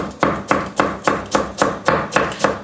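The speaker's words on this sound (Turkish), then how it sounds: "Bu yeşil soğanları ben mümkün olduğunca ufak bir şekilde doğramaya başlıyorum." Knife chopping green onions finely on a cutting board in a quick, even rhythm, about ten close, sharp strikes in a row.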